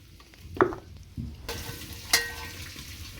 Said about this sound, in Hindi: जब तक नदरू और मूलियाँ फ्राई हो जाएंगे